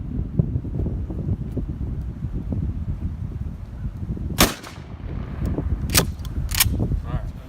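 A 12 gauge shotgun fires 3.5 inch Longbeard number 6 shot turkey loads outdoors: a sharp, loud blast stands out over steady wind noise, with a few smaller sharp cracks after it.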